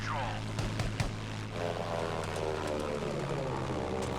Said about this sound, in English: This plane is actually really satisfying to fly